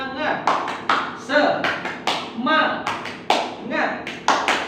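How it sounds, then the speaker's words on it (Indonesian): A school class performs a rhythmic spirit clap in unison, sharp grouped claps in a repeating pattern with voices chanting between the beats. "1, 2, 3, tepuk semangat."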